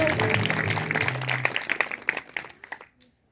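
A church congregation claps along as music trails off, the applause thinning into a few scattered claps and then fading to silence.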